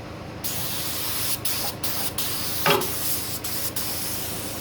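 Clear coat sprayed from a spray gun onto a Ford ZK Fairlane's repaired plenum chamber, a steady close hiss with several brief pauses as the trigger is released and pressed again.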